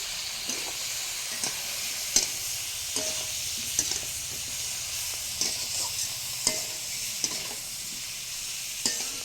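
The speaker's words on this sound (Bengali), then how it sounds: "টমেটোগুলো ভাজার মধ্যে দিয়ে দাও।" Tomatoes frying with bay leaf in a pan on a clay stove, a continuous crackling sizzle broken by regular sharp clicks of stirring, fairly close.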